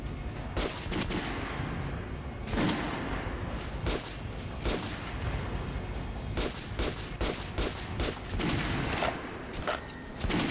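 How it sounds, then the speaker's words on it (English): Assault rifle gunfire in Metro: Last Light, with loud, dense bursts of rapid shots running almost the whole time and short gaps between the volleys. "Ah, that's my assault rifle, not my shotgun."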